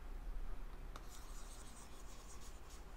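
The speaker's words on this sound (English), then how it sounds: "I'll erase this bit very quickly" Quick erasing on a board during a maths lesson, a sharp tap and then a steady brushy rubbing over a constant background hiss, fairly faint and without talk.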